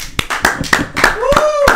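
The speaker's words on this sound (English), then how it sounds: "Let's give him a round of applause, everyone" A handful of people on a podcast set clap for a guest, sharp separate claps in an irregular rhythm close to the microphone, with voices talking over them.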